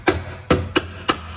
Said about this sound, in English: Get a little rubber mallet.